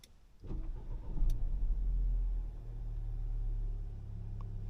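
The 1.8-litre Ford EcoBoost engine in a Ford Territory catches and settles into a steady, low idle hum after a brief start-up surge.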